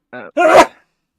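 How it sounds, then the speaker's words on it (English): A single loud, sharp sneeze bursts out after a short intake of breath, close and clear against silence. "sneezed really hard"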